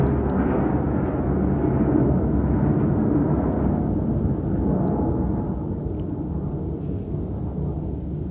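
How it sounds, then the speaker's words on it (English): A jet aircraft passing overhead during a chunky knit blanket session indoors, a loud continuous low roar that swells and slowly fades over several seconds, heard alone without talk. "excuse me, that was a jet."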